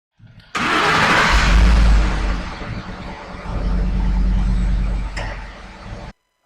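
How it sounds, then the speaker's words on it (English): A Ford F-150 pickup engine with a hard-starting, long-crank fault cranks briefly, catches with a loud roar, then settles into a steady rumbling idle before cutting off. "And now we can start the engine up."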